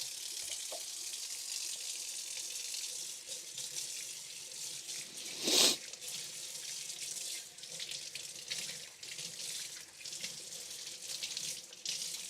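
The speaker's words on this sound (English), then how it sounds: "we can wash the knife easy, no problem" A kitchen knife rinsed under a running tap, a steady soft stream of water with a brief louder splash midway as the blade passes through.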